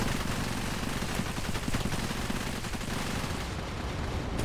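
An airstrike pounds the area in Cepheus Protocol's pandemic mode, a continuous loud barrage of rapid blasts and gunfire-like cracks blending into a dense roar that thins near the end.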